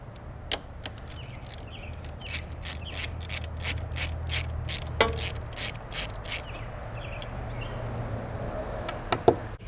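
A ratchet wrench loosens a 3/8 stud on a 1945 Onan generator, a run of quick, crisp clicking strokes in bursts up close over a low steady hum.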